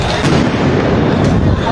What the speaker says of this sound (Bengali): আবারও কিন্তু সাউন্ড গ্রেনেড নিক্ষেপ করা হচ্ছে আমরা দেখতে পাচ্ছি।